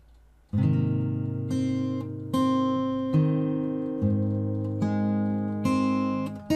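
Slow fingerpicked guitar notes from a piece ring out one after another, each pluck clear and sustained, letting chords build and decay with no voices.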